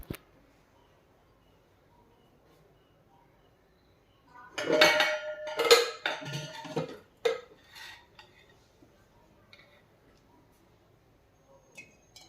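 Grated apple frying in ghee in a pan for kheer, a close burst of clinking pan and utensil scrapes and stirring for a few seconds, then quiet with faint occasional clicks.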